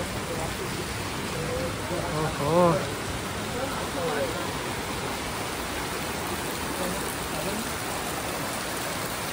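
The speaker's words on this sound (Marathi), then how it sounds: "मंडळी बघू शकता फुल पाऊस आहे" Heavy rain pours steadily outdoors on the drive to Nagar Castle near Shimla, a dense broadband wash under a brief voice.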